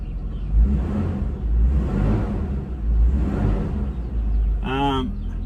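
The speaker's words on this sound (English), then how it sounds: "Land Cruiser runs." Toyota 80 series Land Cruiser engine running, a low steady idle rumble with slow surges in loudness, heard close, with a brief voice at the end.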